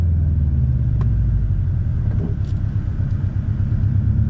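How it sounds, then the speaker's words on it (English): Cabin of a 2018 Subaru WRX STI with coilover suspension slowing over a speed hump: loud, steady low engine and road rumble throughout, with faint knocks from the suspension. "Another speed hump, so we're slowing down."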